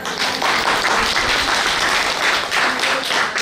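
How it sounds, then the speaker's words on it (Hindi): Audience applause fills a crowded religious-political rally hall, a loud, dense, steady clapping that runs unbroken for a few seconds with no talk over it. "सहमत हो तो ताली बजाओ"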